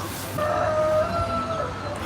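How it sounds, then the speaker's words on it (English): Live roosters crow nearby during an outdoor livestream in China, one clear drawn-out cock-a-doodle-doo over a steady background hum with no talking. "Am I one of the only live streamers that has live roosters?"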